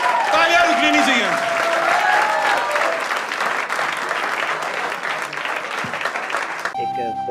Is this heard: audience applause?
yes